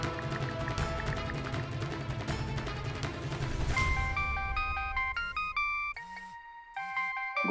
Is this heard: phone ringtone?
yes